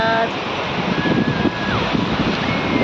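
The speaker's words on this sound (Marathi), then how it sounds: "असा समुद्र आहे आणि भरपूर मस्त आहे" Sea waves at Dahanu beach wash in a constant, fairly loud surf roar mixed with wind buffeting the microphone, with faint background tones drifting over it.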